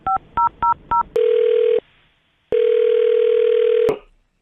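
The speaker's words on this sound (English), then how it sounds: "I'm going to dial his phone number." A phone number is dialed, giving four quick keypad beeps. Two long, steady ringing tones follow, separated by a pause. The tones are loud and clean, with no one talking.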